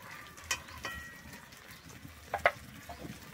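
Ground cumin, coriander, chilli and turmeric fry in a pan for palak paneer, giving a faint, steady sizzle broken by a few soft clinks and scrapes of a spoon, heard close and quiet.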